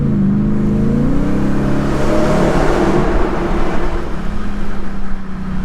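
A Ford F-150 Raptor R pickup truck drives along, its engine a loud, close rumble that rises and settles with throttle over steady road and tyre noise.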